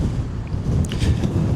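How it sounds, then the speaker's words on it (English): Wind buffets the microphone outdoors near a Ferrari dealership, a loud low rumble that swells and fades in uneven gusts. "It's also very windy, so hopefully you can still hear me quite clear."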